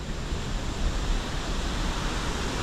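A swift-flowing river with very clear water rushes steadily in the wild forest, a dense, continuous broadband roar with no talking.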